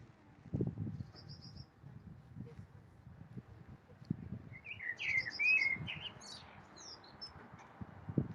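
Several birds chirp and trill at St Mary de Haura church, brief high calls scattered over quiet low rumbling and occasional soft thumps.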